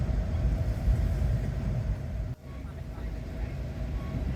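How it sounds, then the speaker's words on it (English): Inside a Virginia Railway Express commuter train headed for Washington Union Station, a low steady rumble of the moving carriage fills the cabin, with a brief dip partway through before the rolling drone resumes. "I joined others and boarded a Virginia Railway Express commuter train headed for Washington Union Station"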